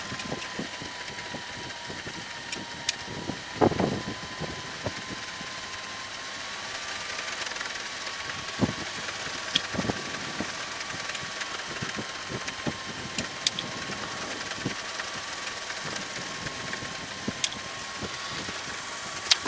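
A light aircraft engine runs steadily at reduced throttle during post-landing shutdown checks, a constant mid-pitched drone with occasional clicks and knocks from the cockpit.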